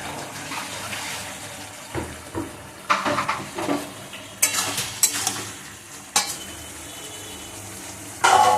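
Bottle gourd and prawns frying in a pan for a Bengali lau chingri dish, a steady soft sizzle with scraping stir strokes and clatters at irregular intervals.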